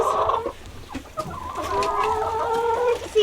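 Hens cluck and chatter inside a backyard chicken coop on a snowy evening, close by and steady, with a brief crow-like call partway through and no voices.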